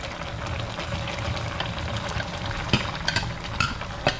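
Bamboo shoots go into a dinengdeng pot and get stirred: a steady simmering hiss sits under irregular scraping and clattering knocks from the stirring, which grow busier toward the end, with no talking.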